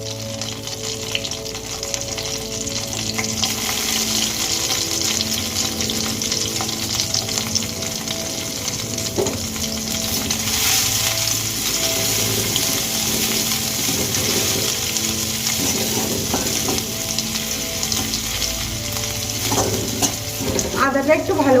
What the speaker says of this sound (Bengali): আদা আমার ভালো করে ভেজে নেওয়া হয়ে গেছে